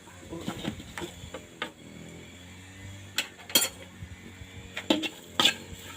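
A metal cooking pan clanks and scrapes with a handful of sharp knocks and rattles, close by, with no one speaking.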